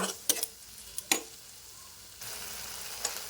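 Spice paste and chopped tomatoes sizzle in a pan for a cabbage kofta curry, a steady soft frying hiss broken by a few sharp spoon clicks, swelling louder partway through.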